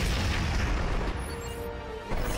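A grenade explodes in the Ratchet & Clank video game as a loud, sustained rumbling blast that fills the whole moment, with a fainter swoosh and a second thump near the end.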